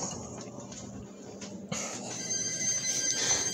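A long-unused cell phone rings indoors, its bright electronic ringtone growing steadily louder and more continuous over a low room hum, with no talking.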